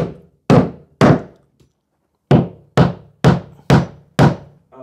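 Seven loud, hollow thumps as a wooden block bangs a staircase part into place during a staircase install, spaced unevenly with a pause in the middle, close and sharp with quick decay.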